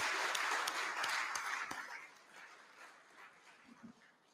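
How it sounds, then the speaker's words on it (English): A conference audience at an energy forum opening session gives a brief round of applause, the clapping loudest at first and then fading away into quiet room noise. "So I want you to join me again in giving our awardee, although he's not here, a round of applause"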